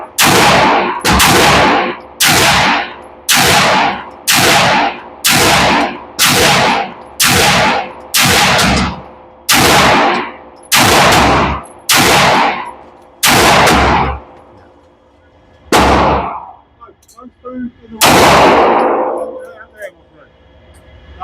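Sig P226 xFive and Sig P320 Spectre Comp pistols fire on an indoor range in a rapid, evenly paced string of about a dozen loud, close shots, then a pause and two final shots, each ringing briefly.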